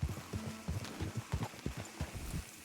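A horse's hooves clip-clop in Red Dead Redemption 2, a steady, fairly close trotting rhythm of sharp knocks that runs through the whole moment with no voices.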